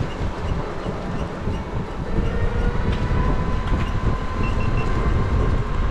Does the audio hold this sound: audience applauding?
no